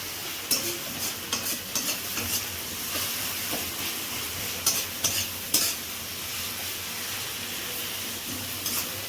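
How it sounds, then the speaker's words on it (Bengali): Tomatoes with salt being stir-fried with fried onions for a Bengali prawn curry, giving a steady close sizzle with scattered scraping and stirring clicks, no talk. "নুনটা দিয়ে আবার একটু কষে নিতে হবে"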